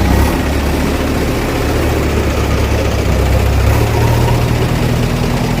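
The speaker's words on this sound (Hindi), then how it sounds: "किस प्रकार से जेसीबी की मदद से ट्रैक्टरों को लगाकर ये काम किया जा रहा है" A JCB excavator and tractors clear garbage at night in Bhiwani, giving a loud, continuous low diesel rumble with a steady idling drone and no voices.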